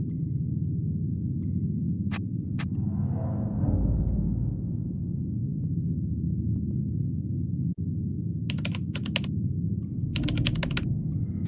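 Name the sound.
typing on console keyboard in video game Still Life 2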